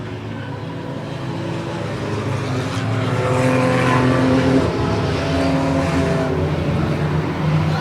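Race cars roar around an enduro oval track in a steady, loud, continuous engine drone that builds slightly midway, with several cars running together and no talk over it.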